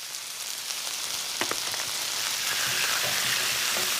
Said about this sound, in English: After that starts to sizzle, we add some strips of beef.